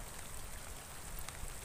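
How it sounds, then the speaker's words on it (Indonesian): Steady rain hisses outdoors beside a pond where tilapia nest, a faint, even wash of drops with no talk. "Hujan Mas Bro."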